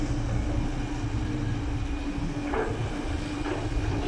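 Steady low diesel engine rumble of a CAT 320GC excavator idling continuously at about 1,650 rpm, loud and close, with a constant mechanical drone and no voices.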